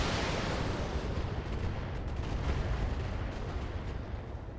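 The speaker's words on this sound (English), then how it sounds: "solid hits from autocannons and missiles" Autocannon and missile fire pounding a mech in BattleTech, a continuous loud barrage of impacts and blasts with no talking.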